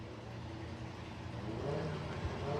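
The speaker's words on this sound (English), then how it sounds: "That's a Toyota MR2 power plant in the back of that." A drag car powered by a 2-litre Toyota MR2 engine mounted in the back hums steadily at a distance, its engine note rising slightly toward the end amid a broad, noisy outdoor background.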